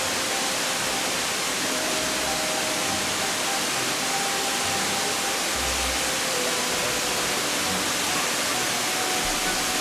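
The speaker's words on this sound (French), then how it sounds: "Avec une chute impressionnante de 60 mètres de hauteur, elle offre un spectacle saisissant où l'eau s'élance avec force" The 60-metre Glandieu waterfall crashes down toward the Rhône plain, a loud, unbroken roar of falling water that fills the whole clip with no voices.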